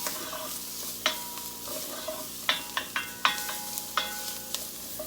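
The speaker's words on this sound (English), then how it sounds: "make sure you keep stirring, because again, the garlic will burn really, really fast." A utensil stirs garlic and tomatoes in a sizzling pan of pasta sauce. Sharp scrapes and clacks land at irregular intervals over a continuous low frying hiss.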